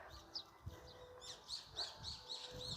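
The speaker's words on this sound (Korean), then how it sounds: "아, 새소리도 아주 이쁘죠." Birds chirp in repeated short, high tweets at a moderate distance, faint and steady, heard outdoors at the Daereungwon tomb park in Gyeongju on a morning walk.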